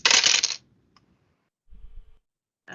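Dice tumbling across a table during a Dungeons & Dragons tabletop game, a short bright rattle followed by quiet, a soft low bump and another brief clatter at the end.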